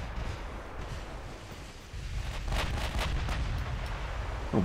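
Naval guns firing in a video game battle with armoured cruisers and a battleship, heard as a steady rumbling roar of distant cannon fire and booms that swells louder partway through, with no talk.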